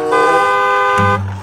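A toy racing car sounds a bright electronic horn: a loud, sustained tone that drops to a lower pitch near the end and then cuts off, heard alone with no talk.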